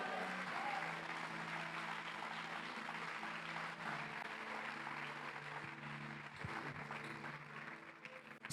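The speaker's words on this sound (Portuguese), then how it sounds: "dá uma rajada de aleluia, dá uma salva de palmas ao Senhor" A church congregation applauds during a festival service, a long sustained wash of clapping from a large crowd at moderate distance, with a faint held musical tone underneath.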